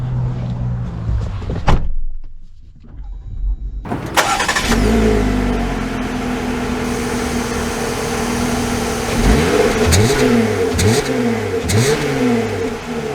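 A 2024 Jeep Wrangler Rubicon Xtreme Recon starts and idles, then accelerates with several rising engine revs and gear changes, loud and close, with no talking.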